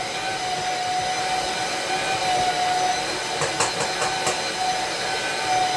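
A stand mixer steadily kneads sourdough country bread dough made with stone-milled flour, a continuous mechanical rumble and hiss with a few brief clanks of the dough hook midway, no talking.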